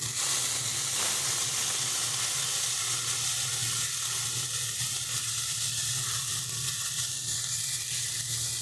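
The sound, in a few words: ground spice paste, green chili and ginger frying in pan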